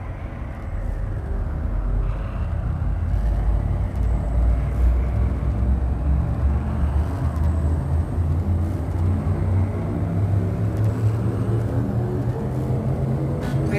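Frame shift drive charging aboard a ship in Elite: Dangerous, a steady loud engine rumble with a rising, layered hum that builds continuously, no voices over it.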